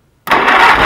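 An Allis Chalmers tractor engine fires up abruptly out of silence and settles straight into a steady, close, loud running note.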